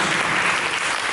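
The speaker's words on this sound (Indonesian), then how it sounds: "Mari kita berikan tepuk tangan yang meriah bagi Yesus." A church congregation at a sermon gives a brief burst of dense, loud, steady applause.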